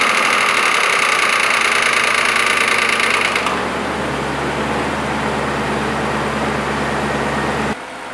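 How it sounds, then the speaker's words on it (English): BMW E39 M5 engine starting with its VANOS drained of oil, a loud rattling, clattering start that settles after a few seconds into a steadier idle hum before cutting off abruptly near the end. "It's going to make a lot of rattle noise at the starter because the oil was like drained from the VANOS."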